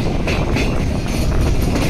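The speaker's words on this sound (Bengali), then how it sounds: "আমাদের ট্রেন নির্ধারিত সময় বড়নগর স্টেশনে এসে পৌঁছালো" A local train pulls into Baranagar station in West Bengal with a steady, loud rumble of rolling wagons and a faint rattle of wheels, with no voices.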